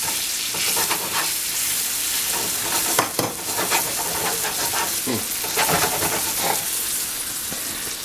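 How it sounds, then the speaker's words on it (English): Noodles stirred in a hot pan for chicken chardonnay: a loud, continuous sizzle and hiss with repeated scraping strokes of the utensil against the pan bottom. "Just gonna go ahead and stir the noodles up. Make sure you don't stick to the bottom of the pan."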